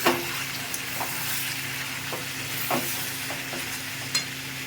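Chicken cooking in oil in a covered pan, sizzling steadily up close, with a few soft stirring scrapes and light taps over the hiss, no speech.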